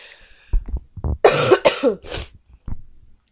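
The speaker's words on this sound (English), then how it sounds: "I am getting over a little cold that I have going on and you might hear me cough." A person with a cold coughs several times in quick, harsh bursts, close to the microphone, followed by a brief throat sound.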